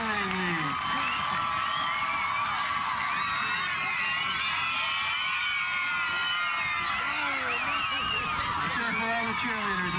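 A crowd at a 2006 high school football game between Hand and Notre Dame-West Haven cheers for youth cheerleaders from the Madison Youth Cheerleading League, with overlapping shouts and whoops from many voices rising and falling throughout.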